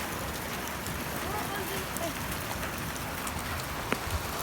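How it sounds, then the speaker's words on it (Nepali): Hail falls on a vegetable garden in a dense, steady patter of small hits that lasts throughout, with a voice faintly in the background. "उ त्यहाँ चाहिँ फेरि कस्तो यस्तोसँगले असिना पर्छ त है"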